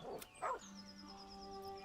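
A dog in the video game Baldur's Gate III gives a couple of short barks near the start, over a sustained musical game soundtrack.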